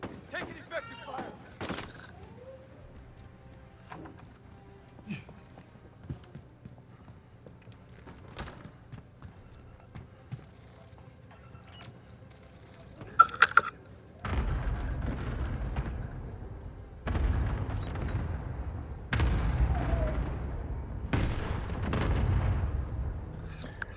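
Video game gunfire, first as sparse distant cracks and pops, then as loud sustained volleys of rapid shots in several bursts, with a voice talking over it.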